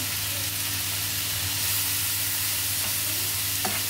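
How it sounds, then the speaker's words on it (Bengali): Bitter gourd with small shrimp and turmeric being stirred in a hot pan, a dense continuous sizzle with occasional scrape and clink of the spoon close by. "হলুদের গুঁড়া দিয়ে দেব, নাড়তে থাকবো, নাড়তে থাকবো।"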